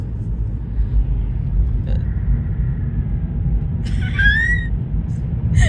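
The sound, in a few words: screaming toy football bouncing in a car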